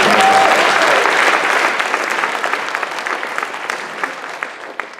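A student audience at a school faculty talk at Germantown Academy claps. The applause is loud and full at first, then thins gradually into scattered individual claps.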